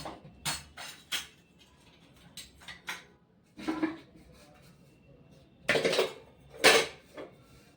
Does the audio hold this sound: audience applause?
no